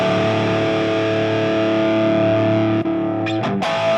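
Electric guitar played through a Fractal FM3 modeler using a simulated Rectifier cabinet, a sustained distorted chord ringing loudly and steadily before a brief break and a couple of sharp picked accents at the end.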